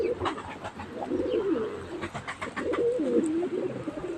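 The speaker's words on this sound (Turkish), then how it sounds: "Sesli bir kuş." Soft, rolling cooing of a pigeon or dove repeating over steady outdoor background noise, with a few faint chirps.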